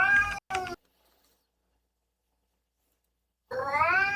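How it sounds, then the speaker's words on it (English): A cat meows twice in quick succession, close and fairly loud, followed by a long silence and then a longer, rising meow. "do apologize for the cat."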